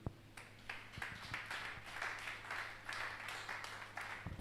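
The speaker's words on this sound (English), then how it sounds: "It's a round of applause for Mr. Samson Ogbole once again." A conference audience claps for a speaker, a thin, distant patter of applause with a few sharper individual claps, fairly faint over a steady low hum.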